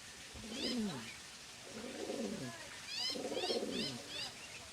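A voice imitates the soft cooing of a pigeon, producing three rolling, throaty coos in slow succession, fairly quiet and close, with faint higher whistling tones mixed in between.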